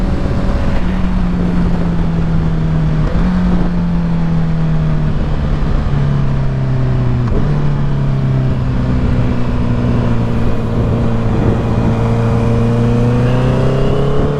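A 2021 Honda CBR650R motorcycle runs at highway speed with a loud, steady engine drone that rises and dips with throttle and gear changes, mixed with heavy wind rush throughout.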